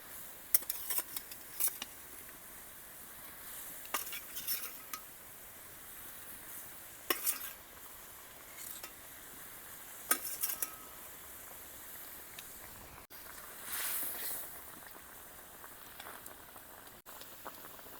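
Fish curry gravy simmers with fried fesa fish, a faint continuous bubbling sizzle interrupted by a few sharp utensil clinks and stirs, close but quiet, with no voices.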